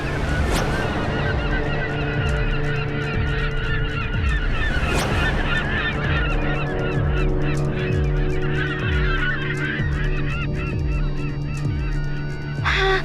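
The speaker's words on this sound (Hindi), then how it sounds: "वो देखो, वहाँ पे पक्षी दिखाई दे रहे हैं।" A large flock of goose-like birds honks steadily and loudly for the whole stretch, overlapping calls forming a dense, continuous chorus with no voices.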